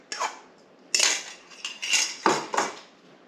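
Eggs whisked with a utensil in a bowl for raspberry lemon zucchini bread, heard as several quick bursts of clinking, scraping strokes against the bowl, close and fairly loud with short pauses between.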